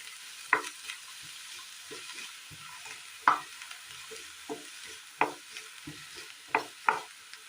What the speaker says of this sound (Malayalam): ഇനി ഇത് നന്നായി ഒന്ന് വഴറ്റിയെടുക്കണം